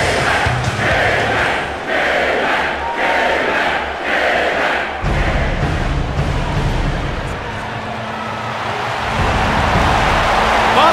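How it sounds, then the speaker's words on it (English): A mixed martial arts arena crowd roars and cheers as a fighter enters the octagon, a dense, continuous wall of voices that swells in waves and stays loud throughout. "Set to enter the octagon and listen to the crowd."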